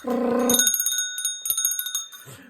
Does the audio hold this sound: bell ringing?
yes